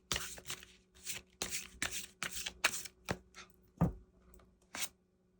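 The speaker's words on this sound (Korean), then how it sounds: "두 분 관계를 위한 조언 카드를 좀 뽑아 드리도록 하겠습니다" Tarot cards shuffled by hand, a series of quick crisp riffling bursts and soft slaps in an uneven rhythm, close and clear in a quiet room without speech.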